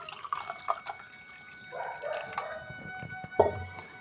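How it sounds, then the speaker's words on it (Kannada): Water poured into a glass holding sabja seeds and mint for juice, heard as a close, uneven trickle and splash with a few sharp drips and a louder clink near the end. "ನೀರು ಹಾಕೋತಾ ಇದ್ದೀನಿ"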